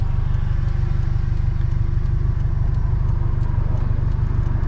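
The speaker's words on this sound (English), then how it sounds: "Idle's okay as well." A Scion FR-S engine idles steadily at close range, a low, even rumble with a fine regular pulse and a light clatter on top, holding constant with no revving.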